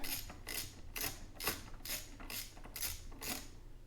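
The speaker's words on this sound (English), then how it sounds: "really the 1/4-inch drive socket is the best to use" A 1/4-inch drive socket ratchet working on the carburetor of a Poulan PL3314 chainsaw gives eight evenly spaced clicking strokes, close and clear, with no talking.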